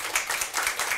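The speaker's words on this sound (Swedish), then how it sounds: "Ge dem en applåd." Brief burst of dense clapping from a small crowd, steady and close, with no voices over it.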